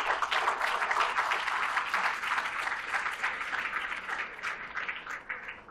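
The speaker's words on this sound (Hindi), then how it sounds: "उनके लिए जोरदार तालियां" A crowd applauds a visiting guest professor at an island gathering, a sustained, even wash of many hands clapping, somewhat distant and soft, tapering slightly toward the end.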